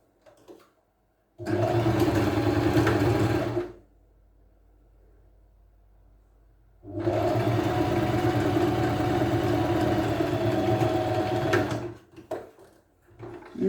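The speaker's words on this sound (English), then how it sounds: "I'll first sew it with straight stitch." Sewing machine running a straight stitch along the shoulder seam of a turtleneck top, a steady motor whir in two long sustained runs of a couple of seconds each, separated by a quiet pause, close and clear.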